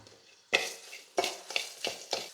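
Lentils, dried chillies and crushed garlic fry in a pan, with about five sharp scraping stirs of a spoon over a faint, low sizzle.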